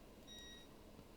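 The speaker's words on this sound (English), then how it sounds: "Sorry for my beeping." Short electronic beep tones from a device during a photo-editing class, a brief steady chirp over a low background hum.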